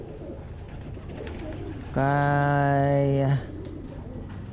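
A pigeon in a loft of stock and breeder birds gives one steady, droning coo of about a second and a half, close by, over quiet background noise, with a brief spoken word nearby.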